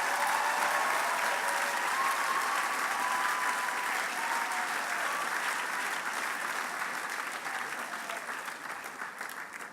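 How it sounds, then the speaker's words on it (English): A dinner audience at the ACLU SoCal Bill of Rights Dinner applauds in a dense, sustained wash of clapping that fills the room and fades a little toward the end. "let's just give her applause right now"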